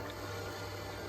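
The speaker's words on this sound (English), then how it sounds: "You can hear that pump just running." A Pierburg CWA400 electric intercooler pump on a Dodge Hellcat Charger or Challenger runs with a steady, even hum and a low droning tone, holding constant throughout with no other sounds.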